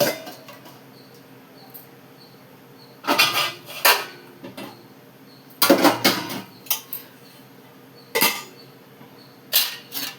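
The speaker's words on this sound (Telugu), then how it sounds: "మూత పెట్టేసుకుందాం." A metal lid clanks onto a cooking pot in a home kitchen: several separate clinks and rattles, close and fairly loud, spaced by quiet pauses with no talking.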